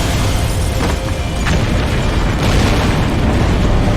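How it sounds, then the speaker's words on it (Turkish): Booming explosions in Max Payne 3 with loud, noisy blasts, one burst standing out near the middle, over continuous dense game noise. "Ha, güzel patladı."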